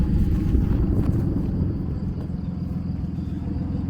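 A Dodge WC-51 military 4x4 with an open exhaust engine-brakes off the throttle, a steady, deep, rumbling drone that fades slightly as it coasts, with no voices.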